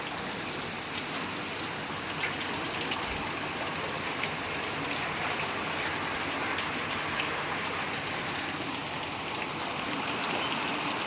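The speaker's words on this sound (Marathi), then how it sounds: "पाणी खूप आलं आहे पाऊस खूप आला आहे भरपूर" Heavy monsoon rain pours down steadily as a dense, continuous hiss of drops drumming on surfaces, with water running into overflowing drains. It stays loud and unbroken throughout, with no voices.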